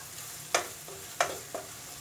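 A spice mixture for egg masala is stirred in a pan, with three short spoon scrapes over a faint, low sizzle.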